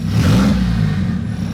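A turbocharged Nissan 240SX engine revs up briefly and loudly, the close, strong mechanical roar easing slightly toward the end.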